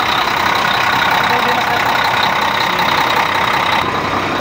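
A repaired engine idles steadily after starting, a continuous close, loud mechanical drone with a fairly even rumble throughout and no speech.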